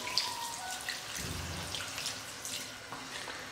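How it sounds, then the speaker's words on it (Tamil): Water is poured into a pan of spicy chicken gravy as it cooks, a continuous splashing trickle with a few louder gurgles, close by, with no talk. "இப்போ தண்ணி வந்து சேர்த்துக்கிறேன்"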